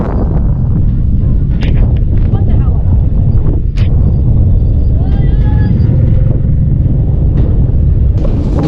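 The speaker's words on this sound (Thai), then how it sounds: "ลมวิดวิดวิดวิดวิดมาเลยทุกคนเนาะนี่" Cold wind buffets the microphone on a bridge over a river in rural Laos, a loud and steady roaring rumble that fills the whole clip, with faint traffic-like noise underneath.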